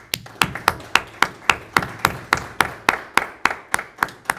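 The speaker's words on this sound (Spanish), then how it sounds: "un fuerte aplauso ahí para Oscar." A small conference audience gives a round of applause for a speaker, a sparse, steady series of about fifteen distinct claps in even rhythm, close and fairly loud, with no talking.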